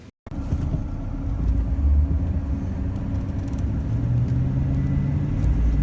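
A pickup truck fitted with a camper shell drives down a road, heard from inside as a steady, fairly loud engine and road rumble with no talking.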